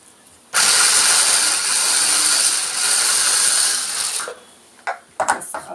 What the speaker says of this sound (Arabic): هضربه بقى في الكبة.